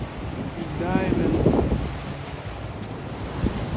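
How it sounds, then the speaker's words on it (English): Ocean waves breaking along a Hawaiian shoreline, a steady broadband wash of surf mixed with wind buffeting the microphone, continuous for the full stretch with a few brief swells in loudness and no talking. "These waves are crazy, man. Don't turn your back on the ocean."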